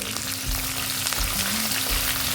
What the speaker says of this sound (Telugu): ఇప్పుడు ఇందులోకి పచ్చిమిర్చి అలాగే ఎండుమిర్చి కొద్దిగా కరివేపాకు వేసుకొని ఫ్రై చేసుకోవాలండి